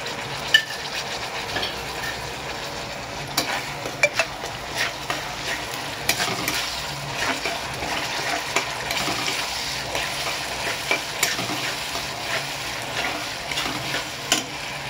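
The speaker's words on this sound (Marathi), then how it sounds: "आणि आता आपण टाकूया टमाटर प्युरी" Tomato puree sizzles in a pan over onions for Mumbai-style shev bhaji, with a steady frying hiss and scattered scraping stirs from a spoon, close and continuous.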